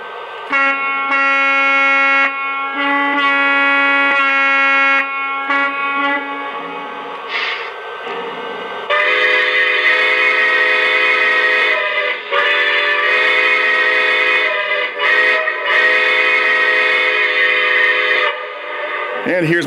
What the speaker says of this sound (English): These S3s actually have one horn and two whistles